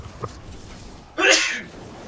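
A single sharp sneeze bursts out near the microphone after a faint earlier sound, then fades back to quiet room noise.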